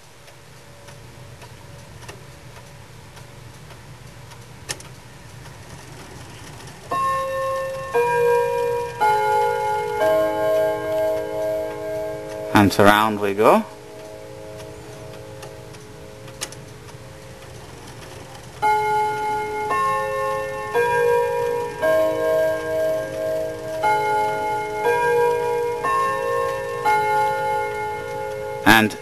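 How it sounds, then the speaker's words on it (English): Kieninger wall clock with Ave Maria and Westminster duo chime, set to Westminster, ticking steadily then sounding two sustained runs of ringing chime tones close up, with a brief spoken aside and handling noise between them. "Now we shall exercise the Westminster option, which is done by moving this lever to the Westminster marked slot"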